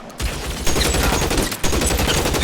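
Sustained automatic gunfire in a war video game, dense overlapping bursts that roar loud and close without a break, with a brief dip in intensity partway through.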